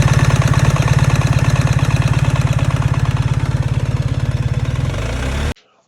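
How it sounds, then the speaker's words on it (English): A BMW R1300GS motorcycle engine idles nearby with a steady, rapid mechanical clatter and throb that runs loud and even for about five seconds before cutting off abruptly. "the engine clatter and the noise from the engine is a bit like the 1200"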